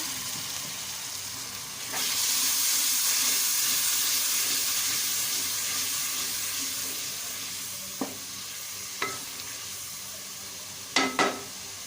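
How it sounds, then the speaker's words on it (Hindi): Water hits a pan of frying spice masala for aloo methi sabzi, bursting into a loud steaming sizzle that slowly fades, followed by a few sharp clinks of stirring. "थोड़ा सारा पानी ऐड करेंगे ताकि ये मसाला जो है वो जले नहीं"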